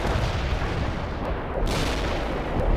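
A Soviet artillery barrage in the strategy game World in Conflict rumbles without pause, with heavy booms and blasts overlapping in a loud, dense roar.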